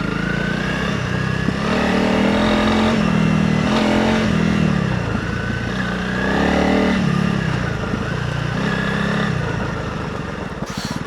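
A Honda CRF300 Rally motorcycle engine on a ride toward a stone quarry, a continuous, loud, close drone that rises and falls as the throttle changes, with no talking throughout.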